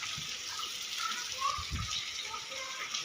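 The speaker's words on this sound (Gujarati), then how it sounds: "અત્યારે બપોરના 12 વાગ્યા છે અને ધબધબાટી વરસાદ ચાલુ થયો છે." A heavy midday downpour soaks a market street in Bhesan, Gujarat, with water running along the road. It makes a steady, even rushing hiss throughout, with a few faint low thuds underneath.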